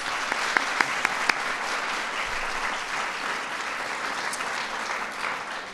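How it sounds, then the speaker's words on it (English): Steady applause from an audience at a children's state dinner, a broad dense wash of clapping that holds for several seconds with a few sharper claps near the start. "So let's give them a round of applause."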